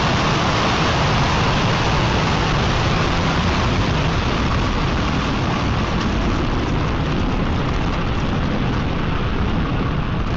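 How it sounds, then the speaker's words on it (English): Spectrum rocket engines roaring at liftoff from the Andøya launch site, a loud, dense, continuous broadband rumble that stays constant and fills the whole stretch without any voices. "and we have liftoff of Spectrum."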